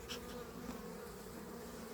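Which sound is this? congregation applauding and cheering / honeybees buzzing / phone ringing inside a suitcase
honeybees buzzing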